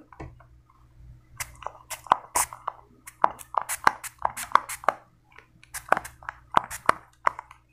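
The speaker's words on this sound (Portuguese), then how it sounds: "Vou dar uma borrifada agora pra ver onde é que tá alto, onde é que tá baixo" A hand spray bottle mists water onto hair during an ASMR haircut. It gives a string of short, close, crisp spritzes, spaced irregularly, with quiet handling sounds between them.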